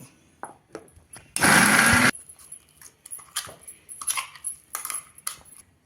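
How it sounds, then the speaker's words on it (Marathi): A small mixer grinder jar runs in one loud, steady burst of under a second, coarsely grinding fresh green peas without water, set among soft kitchen clinks and handling noises. "आता त्यामध्येच आपल्याला हे मटारचे दाणे घालून पण ओबडधोबड वाटून घ्यायचे"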